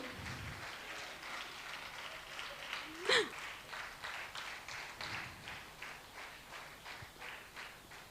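An audience at a convocation ceremony claps in a steady, rhythmic beat throughout, moderately distant and soft, with a brief voice breaking through midway.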